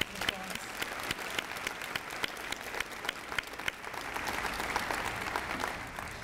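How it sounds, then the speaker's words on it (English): A banquet audience at a university foundation scholarship event claps in a steady, dense round of applause that swells slightly toward the end, with a voice faint underneath. "Let's give them another round of applause."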